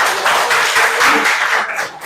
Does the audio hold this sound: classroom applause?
yes